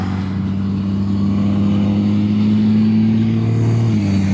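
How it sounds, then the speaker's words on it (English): A loud, steady low engine drone from a heavy truck passing close by on a Texas road, its pitch shifting slightly near the end, with constant road noise. "Loud fucking truck."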